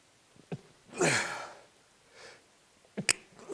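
A single person sneezes sharply and close by, with a brief intake of breath before it, a short breathy exhale after, then a couple of quick snorting sniffs, with no talking.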